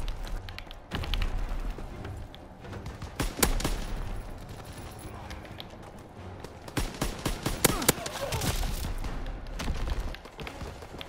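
Call of Duty: WWII match with bursts of M1A1 carbine fire, scattered sharp shots at varying distance over a constant wash of battle noise, with no voices.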